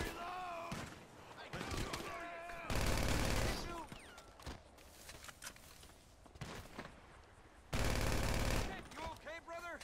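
Automatic gunfire in GTA Online during a Lost MC contract mission, with dense rattling bursts, two especially loud sustained volleys, and scattered thuds over game music and shouted voices.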